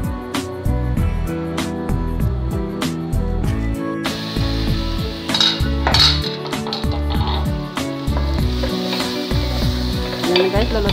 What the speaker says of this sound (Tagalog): Ayan guys, lulutuin ko na yung aking hipon.